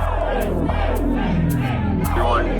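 A rowdy courtroom crowd shouts and clamors all at once, a dense, continuous roar of many voices with sharper yells cutting through, loud and sustained throughout.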